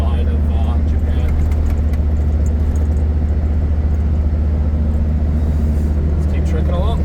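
Steady low engine drone and road rumble from a car cruising along a road on the north side of Japan, constant and close, with scattered faint ticks above the hum.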